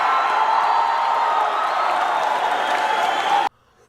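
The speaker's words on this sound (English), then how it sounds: "Sanders took the stage at Skyline High School in front of a cheering crowd" Crowd cheering and applauding at a Bernie Sanders rally at Skyline High School, a dense wash of clapping and whoops for about three and a half seconds that cuts off abruptly.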